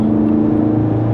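C8 Z06 Corvette with a Soler throttle body pulling in 5th gear to pass another car, a steady low engine drone with a firm tonal hum, brief and even with no rise in loudness.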